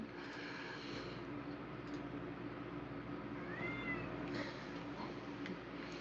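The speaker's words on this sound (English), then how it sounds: "Kitty cat's starting to whine." A cat whines with a faint, drawn-out meow that rises and falls briefly midway, heard against a constant background hiss.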